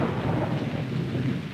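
Steady rain pours down with a dense, rumbling wash of noise, heavy and continuous like a storm, no voices.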